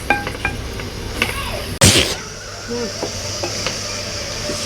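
Food sautéing in a pan with a steady low sizzle and intermittent stirring scrapes, one loud burst of clatter midway, and faint background voices at times.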